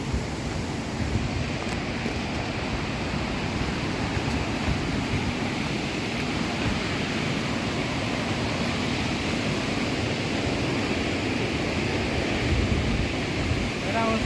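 Asurghati waterfall in Mayurbhanj, a steady broadband rush of falling water that holds constant and fairly loud across the clip, with no clear breaks.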